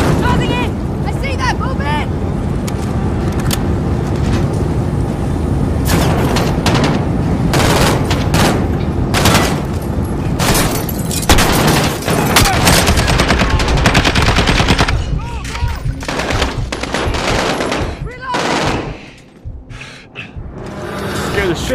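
Sustained machine gun fire from Call of Duty Modern Warfare rattles in long, loud automatic bursts, with heavy impacts and explosive booms mixed in and brief gaps between volleys; a voice talks over parts of it.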